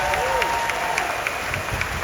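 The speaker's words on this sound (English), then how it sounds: "Let's give them another round of applause. Let them hear it." A crowd at Disney's Hollywood Studios 35th anniversary ceremony claps and cheers briefly, a dense patter of hands with a whistle cutting through near the start.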